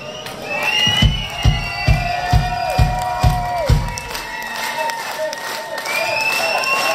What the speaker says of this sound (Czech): Tleskáme vám od srdce